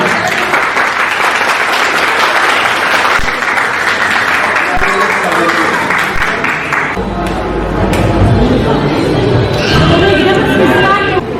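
Guests at a wedding ceremony applaud loudly while chatter runs underneath; the clapping thins out partway through and gives way to mixed crowd talk and scattered claps.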